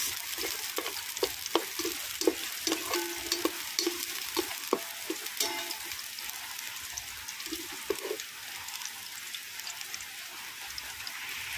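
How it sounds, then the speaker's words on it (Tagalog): Garlic sautés in hot cooking oil with a steady sizzle. Repeated scraping and stirring taps come through in the first half, then the frying continues more evenly. No voices are heard. "Magigisa na tayo ng bawang"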